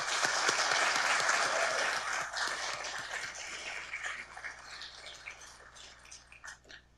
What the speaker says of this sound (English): please give a round of applause for everybody that helped you get here